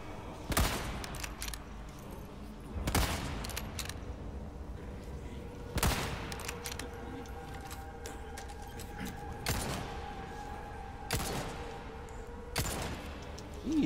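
Resident Evil 4 Remake gunshots ring out as single loud, booming shots spaced every few seconds, each with a short decaying echo over a dim game ambience and faint tonal hum.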